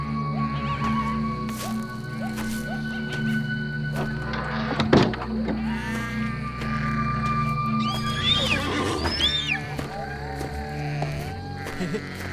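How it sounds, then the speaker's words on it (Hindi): A horse whinnies loudly partway through and again with high, wavering neighs later on, while hooves clip-clop softly over a steady low background hum. "काफी समझदार घोड़ा है।"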